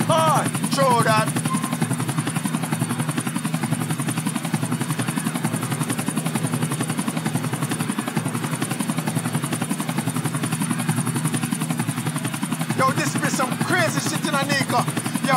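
A helicopter in GTA IV drones steadily, its rotor giving a chopping pulse throughout, with voices talking over it now and then.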